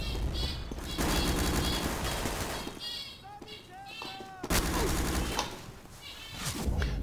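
Gunfire from Day of Defeat Source comes in loud bursts and single shots between short pauses, under the sound of game action.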